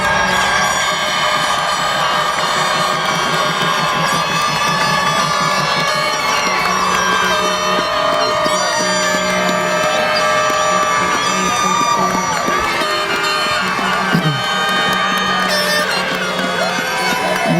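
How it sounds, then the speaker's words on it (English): A large graduation-night audience applauds and cheers the class of 2018, with dense continuous clapping, whoops and shouts blended with music filling the hall at steady loudness. "Please stand and join me in applauding the class of"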